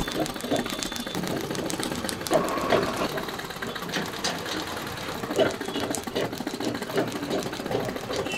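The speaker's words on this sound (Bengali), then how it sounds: "পুরোটা সেলাই হবেই হবে না, একসাথে একসঙ্গে সেলাই" Sewing machine stitching a motorcycle seat cover for a Bajaj Avenger, a steady fast mechanical chatter running throughout, close and fairly loud.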